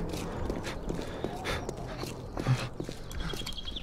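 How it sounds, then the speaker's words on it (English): A dog in the 7 Days To Die survival game, heard as soft, irregular padding footsteps and scuffs against a low game ambience, with one brief louder thump in the middle. "Okay, the dog's stuck."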